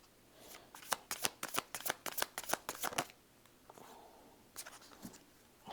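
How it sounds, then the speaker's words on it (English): A deck of tarot cards is handled and pulled apart, giving a rapid run of crisp papery riffle snaps for about three seconds, followed by a few softer, scattered card sounds, close and without talk. "So I'm going to get all the cards out."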